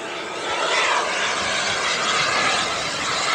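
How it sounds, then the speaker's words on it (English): A Dassault Rafale fighter jet taking off at an airshow, a loud continuous engine roar that swells and holds steady, with no voices. "Doesn't need too much runway to get off the ground, especially with the headwind today."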